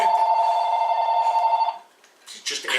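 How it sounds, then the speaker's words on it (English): A house telephone rings with a loud, sustained electronic tone for under two seconds and then cuts off, followed by a brief rustle and clatter nearby. "And the phone's going to ring too."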